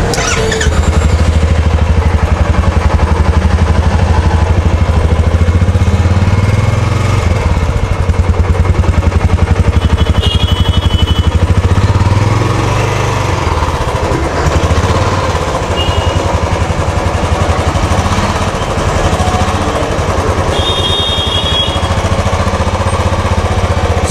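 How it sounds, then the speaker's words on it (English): Royal Enfield Classic 350 BS6 motorcycle with its standard exhaust, heard close up as a loud, continuous thumping single-cylinder note that holds steady throughout with slight revving and a brief high squeal, with no talking. "we're going to show you how this bike sounds and what's the exhaust note"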